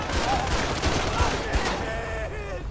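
Gunfire erupts from a shooter during a GTA V LSPDFR police encounter, a sustained burst of rapid shots with a voice shouting over the din.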